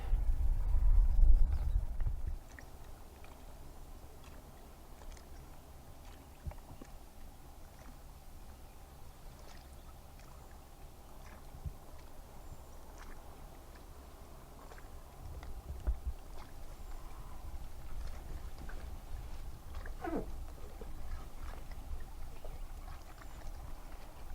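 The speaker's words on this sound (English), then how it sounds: "that was a nice little paddle" Quiet kayak paddling on water, soft splashes and drips over a low steady background rumble, with an occasional louder knock near the start.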